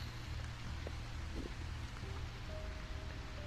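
Steady rain patters continuously over a low rumble in the video game A Quiet Place: The Road Ahead, an even wash of drops with a faint tone near the end and no voices.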